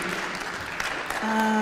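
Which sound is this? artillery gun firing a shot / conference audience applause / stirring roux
conference audience applause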